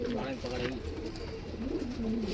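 Pigeons offered for sale cooing nearby, low throaty warbles repeating over a couple of seconds while someone talks over them.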